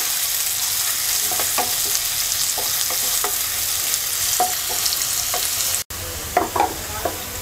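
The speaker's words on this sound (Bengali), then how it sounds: "পেঁয়াজটাকে হালকা ভেজে নেব" Two medium chopped onions sizzle steadily in hot oil, a constant crackling hiss punctuated by occasional spatula scrapes and stirring taps, with a brief cut near the end before the frying resumes.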